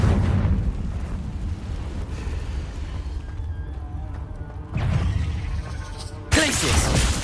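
A Confringo fire spell blasting in the video game Hogwarts Legacy, a rumbling burst that surges louder near the end, followed by a sharper, brighter crash over steady game background noise.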